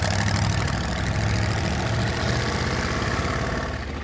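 The 289 Ford Cobra V8 in the Munster Koach idles with a loud, steady, lumpy rumble that holds evenly throughout and eases slightly at the end, alone with no talk.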